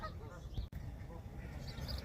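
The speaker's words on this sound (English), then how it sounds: "Can you hear those geese and ducks?" Geese honking and ducks quacking outdoors on a winter walk, a steady stretch of distant calls with a brief gap.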